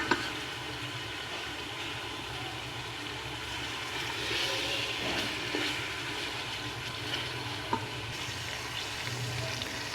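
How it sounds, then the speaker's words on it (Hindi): Chicken frying with ginger garlic paste for chicken pulao makes a continuous dense sizzle and hiss that holds steady for the whole stretch, close by, with a few faint scrapes and no talking. "अदरक लहसुन को थोड़ा सा फ्राई कर लिया है"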